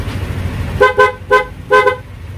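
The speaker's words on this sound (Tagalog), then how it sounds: "Napakalutong ng busina guys." A motorcycle horn powered by a lithium battery honks in short bursts: a quick double toot, a single toot, then another double toot, loud and close over faint background noise.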